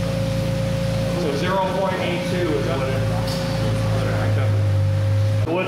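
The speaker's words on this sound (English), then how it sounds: "It's just got a huge vacuum pump in here. It's sucking everything out of the system." A car air-conditioning recharge machine's vacuum pump hums steadily with a constant pitched drone and low mechanical throb, while a person talks over it close by.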